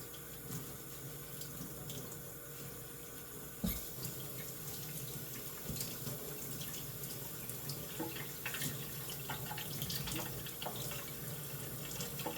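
Vegetables, including cilantro, rinsed under a running kitchen faucet, a steady close hiss of flowing water splashing into a sink with occasional clunks and shifts as the produce is handled, no talking.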